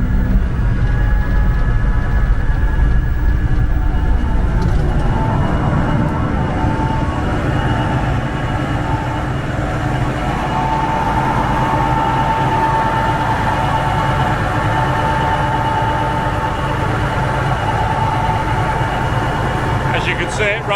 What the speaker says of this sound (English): It runs up lovely and smooth and nice and quiet.